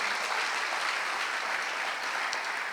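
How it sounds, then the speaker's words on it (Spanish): A church congregation gives an offering of applause to God during a worship service, loud continuous clapping from many hands, steady and unbroken. "Démosle fuerte esa ofrenda de palmas a nuestro Dios"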